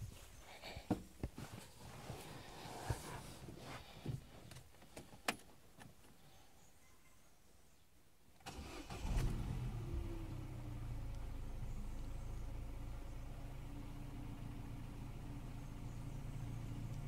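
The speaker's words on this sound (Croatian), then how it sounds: "Idemo sad upalimo auto." A Peugeot 308 engine, just fitted with new spark plugs, cranks and starts partway through, then settles into a steady, close idle hum after a few faint clicks and rattles.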